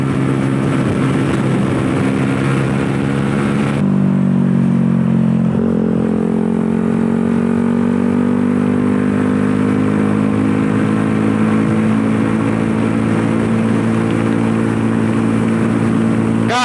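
A Suzuki GSX motorcycle with a very loud aftermarket exhaust revs on a test ride, its engine roaring continuously up close and shifting pitch partway through as it climbs steadily in tone.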